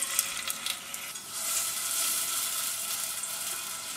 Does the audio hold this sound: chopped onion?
yes